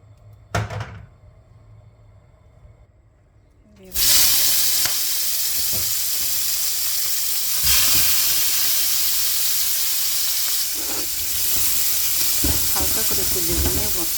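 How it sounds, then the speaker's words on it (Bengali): Turmeric- and salt-coated prawns fry in a hot pan with a loud, steady sizzle that bursts in after a brief quiet start, with occasional clatters of stirring over the hiss. "এই যেমন চিংড়ি মাছ ভাজিটা হয়ে গেছে, লাল লাল করে ভেজে নিচ্ছি।"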